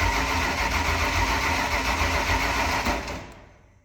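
Abandoned supercharged 1965 Ford engine with open headers cranking and catching, a loud rough mechanical roar with blower whine that runs steadily for a few seconds, then fades out.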